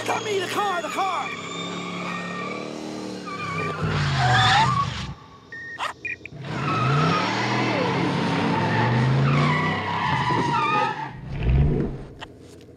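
A car skids with squealing tires in long, loud sweeps, engine roar underneath, while people shout over it.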